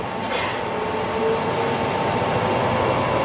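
Crossrail Class 345 electric train running toward Shenfield, a steady rumbling hum with a faint high tone, heard from on board at even, moderate loudness throughout.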